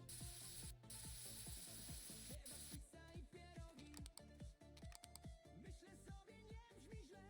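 A spray can of paint hisses in short, rough bursts over a car panel being primed before filler, with mechanical clicking and rattling alongside and faint background hum.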